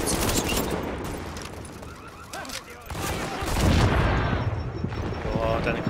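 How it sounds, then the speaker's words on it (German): Grenade explosion in the video game The Division, a dull boom under a burst of game gunfire and other noise, with a voice talking over it. "Boah, deine Granate."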